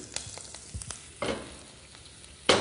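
Breadcrumbs with thyme dropped into hot oil in a pan, giving soft sizzling with a few sharp clatters and scrapes of stirring, fairly quiet and close, with no talk.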